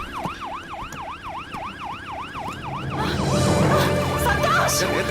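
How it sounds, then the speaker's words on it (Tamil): An ambulance siren arrives in a Tamil action crime film, wailing in a steady rising and falling cycle before a loud burst of commotion and noise swells over it. "ஆம்புலன்ஸ் வந்துருச்சு சார்."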